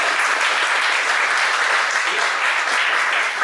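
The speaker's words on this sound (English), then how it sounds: "So a big round of applause." An audience in a lecture hall on India's economy applauds a speaker, a dense, sustained wash of many hands clapping, loud and steady throughout with no pause.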